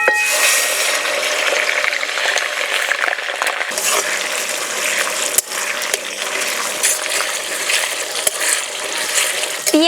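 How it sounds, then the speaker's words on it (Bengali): Onion paste hitting hot oil tempered with dry red chilli, bay leaf, cardamom and cinnamon for an egg korma, giving a steady close bubbling sizzle with light scraping clicks throughout. "ফোড়নটা পুড়ে উঠেছে, এবার পেঁয়াজ বাটা দিয়ে দেব।"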